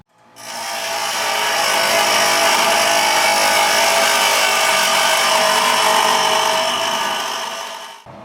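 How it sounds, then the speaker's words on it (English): A bench grinder shaving metal for a 1978 Suzuki GS550 cafe racer build gives a steady, loud, close whine that rises quickly, holds for several seconds and then fades as the wheel winds down. "you can probably hear my bench grinder winding down"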